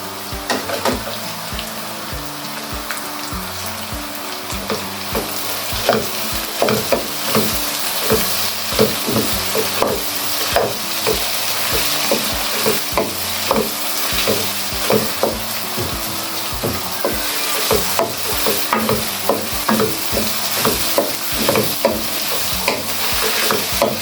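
Finely chopped onion frying in a pan for a lauki keema dish, with a steady sizzle under frequent, brisk spatula scrapes and clacks against the pan, close and fairly loud throughout.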